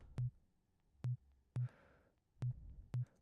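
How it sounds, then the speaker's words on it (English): Synthesized kick drum with its LFO rate turned up, giving five short, punchy low thumps at uneven intervals, the third trailed by a brief burst of hiss, with no talking. "we have something that slightly resembles a kick."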